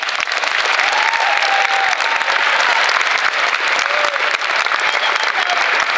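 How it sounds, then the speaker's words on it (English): A crowd gathered for a high school signing day gives sustained, loud applause for student athletes, a dense, even wash of clapping that holds steady for several seconds with a few faint voices underneath. "we just want to give one more round of applause to all of these student athletes for their outstanding achievement"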